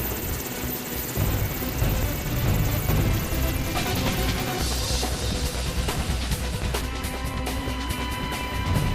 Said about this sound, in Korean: 헬기를 이용해 작전 지역으로 이동,